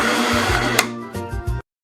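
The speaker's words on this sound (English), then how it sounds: "This is a blender." A kitchen blender whirs loudly and steadily up close, then gives a few short pulsing bursts before cutting out abruptly, with no voices.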